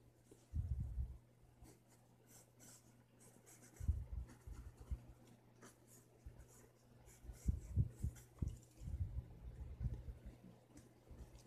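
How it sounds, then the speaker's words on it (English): Pencil strokes on paper during a drawing of a creepy creature: short, soft scratching bursts with quiet pauses between them, close but faint over a low steady hum. "draw the seam in his pant leg"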